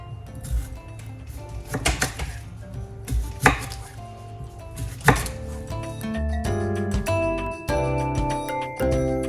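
Knife chopping washed, prepped vegetables for potato chowder on a cutting board, sharp irregular close knocks that build into faster, denser chopping toward the end.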